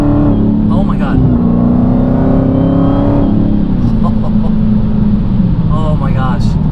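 A 707 hp Dodge Challenger Hellcat Widebody accelerates hard down a straightaway, its supercharged engine roaring loud and close with a rising then settling drone, while a man exclaims over it.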